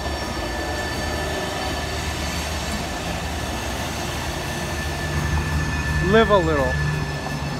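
A train rolls past near downtown Roanoke, Virginia, a constant close rumble with steady tonal hum, while a person speaks briefly and a voice chants rising and falling tones late in the clip.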